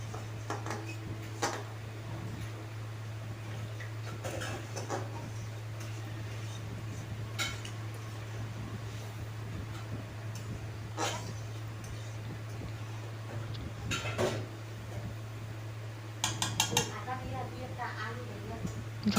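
A spoon stirs chickpea ghugni curry in a pot, sparse clinks and scrapes scattered over a steady low hum, with someone talking throughout.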